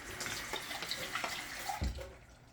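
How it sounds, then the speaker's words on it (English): Tap water pouring into an empty 15-ounce tomato can in a home kitchen while making chili, a steady splashing trickle with a brief louder gush near the end, close and alone. "Fill your can about 1/4 of the way with water so you don't waste none of that good tomato."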